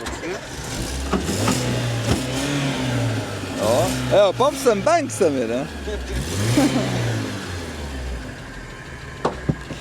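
Cars pull up to a drag race start line, engines revving and rising in pitch several times over a rumbling idle, with people talking over the noise.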